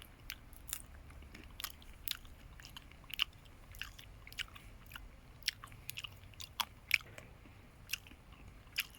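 Biting and chewing a Hall's Giant hazelnut, close crisp crunches in an irregular series with quiet moments between chews.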